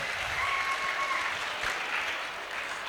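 A steady wash of applause from the audience at a school performance at Creative Public School, dense and continuous throughout with no voices over it.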